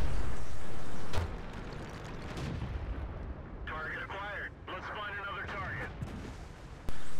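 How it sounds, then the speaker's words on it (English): A Dicker Max tank destroyer fires its gun in World of Tanks, a loud boom with a long rumbling decay, then quieter battle noise, another sharp shot at the end, with a voice talking over part of it. "There's the Dicker Max looking the other way, so he takes a shot."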